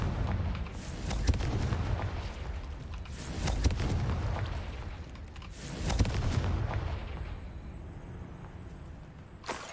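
In the Hogwarts Legacy video game, Confringo spells set off heavy explosions: several deep booming blasts at regular intervals, loud and rumbling with lingering decay, and no voices between them.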